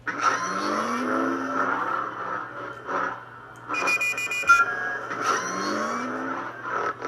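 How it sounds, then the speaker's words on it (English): A lightsaber sound font made to resemble a speeder bike gives a steady buzzing engine-like hum that swells and dips with swings, with a bright crackling burst partway through. No voices are heard. "this is the more speeder bike sounding one"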